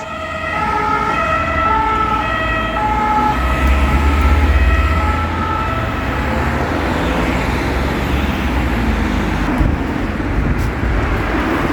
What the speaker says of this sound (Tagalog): May dumadaan, mga sasakyan.